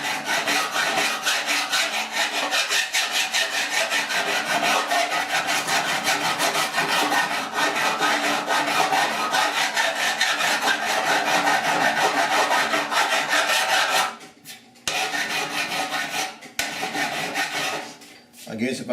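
A hand file rasps across welds on a rusted 1969 Chevrolet C10 core support patch panel, a loud, continuous scraping stroke after stroke that pauses briefly near the end and then resumes.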